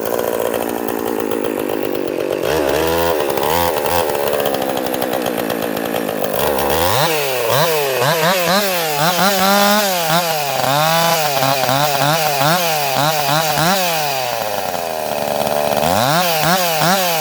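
A ported Husqvarna 346xp chainsaw rips lengthwise through wood, loud and close, the engine revving up and down in rising and falling whines as the chain bites, running continuously throughout.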